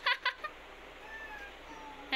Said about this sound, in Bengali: বাইরে ম্যাও আছে, ম্যাও খাবে দেবে না